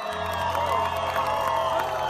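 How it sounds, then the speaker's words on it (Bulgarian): An audience at a live evening show applauds and cheers with scattered whoops, a steady, fairly close wash of crowd noise lasting throughout. "Аплодисменти за нея, дами и господа."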